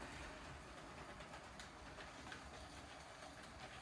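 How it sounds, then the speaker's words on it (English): A LEGO Union Pacific train rolling through track switches and a double slip crossover, making a steady close rattling, clickety-clack rumble that continues evenly with no voices. "Little bit slow through there, but pretty good."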